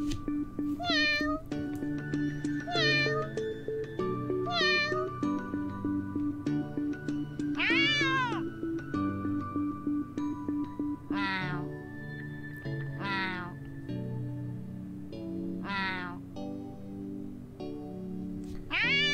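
Mobile space-adventure game Miaoqi Planet with its two cat heroes: a long run of about ten distinct meows, some short and chirpy, others drawn-out and wailing, spaced every second or two over constant game music.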